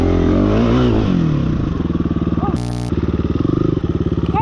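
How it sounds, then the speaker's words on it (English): A dirt bike engine revs hard in muddy woods, a loud close buzzing drone with rising and falling pitch, pulsing throttle bursts and a brief harsh scrape or clatter partway through. "Two women were racing their dirt bikes through the muddy woods when disaster struck."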